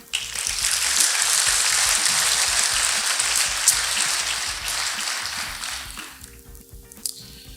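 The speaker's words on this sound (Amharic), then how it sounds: "ለዚህ ቃል አጨብጭቡ እስቲ።" Church congregation clapping together, a dense steady wash of applause filling most of the clip before thinning out toward the end.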